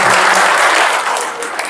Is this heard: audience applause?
yes